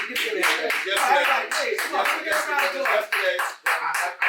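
A small group in an interview setting claps hands, with sharp, uneven claps mixed under several people talking and cheering close by.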